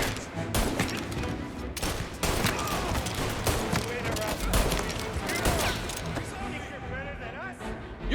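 Gunfire in a stairwell fight in the video game Mafia: Definitive Edition, repeated sharp shots and volleys crackling through busy game noise while voices shout and talk over the action.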